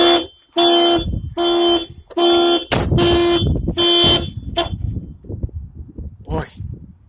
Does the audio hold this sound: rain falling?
no